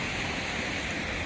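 The Washpa River in Illinois rushes past in a steady, broadband wash of flowing water, constant and fairly loud with no pauses and no voices.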